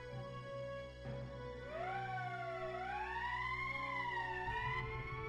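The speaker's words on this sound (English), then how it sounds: "That's the emergency siren." A loud wailing emergency siren in the video game Valkyria Chronicles rises and falls in pitch over a steady electronic drone, sounding continuously for several seconds.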